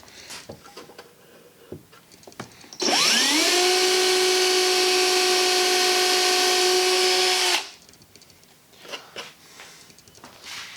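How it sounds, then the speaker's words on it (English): A power drill spins up and whines steadily for a few seconds while boring a pilot hole into wooden plugs in an antique oak dining table, then stops, with quiet handling noises before and after. "drill a pilot hole into the plugs that we put in so we can drive the screw"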